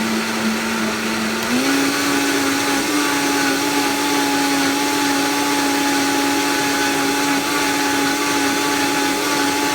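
Loud blender on a high variable speed puréeing butternut squash soup, a constant whirring drone that steps up in pitch early on and then holds steady throughout, with no talking.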